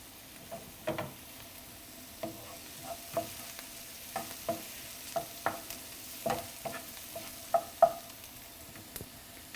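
Onions fry in a pan, with a soft steady sizzle beneath a scattered run of sharp scraping stirs and utensil clicks against the pan, close and alone with no voices.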